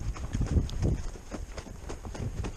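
Hoofbeats of a horse loping on the right lead, a steady rhythmic clip-clop of repeated dull thuds close by, heard alone without talk.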